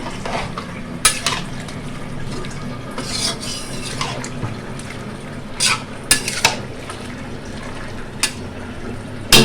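Water goes into a pan of fried fritters, setting off a steady sizzle with repeated sharp clinks and scrapes of a utensil against the pan.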